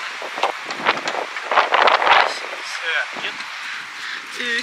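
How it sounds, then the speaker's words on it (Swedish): Strong wind gusts buffet the microphone in an outdoor desert-like setting, rumbling in uneven bursts while a person talks over it. "Alltså, det blåser sjukt mycket."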